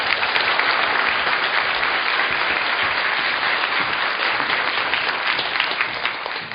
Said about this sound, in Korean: 여러분 박수로 청해 주십시오.